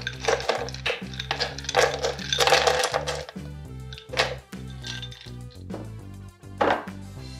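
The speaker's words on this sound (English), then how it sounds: "Next, I'm going to put 1 cup of ice cubes" A cup of ice cubes tumbling into a blender jar for a vegan coconut milkshake, with a burst of hard clattering and clinking that thins into scattered clicks over soft background music.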